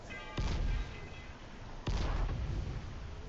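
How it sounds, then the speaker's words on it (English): Grenade explosions in the zombie video game Dying Light, two loud booming blasts about a second and a half apart, each with a rumbling tail, over a steady game background. "if I throw this grenade"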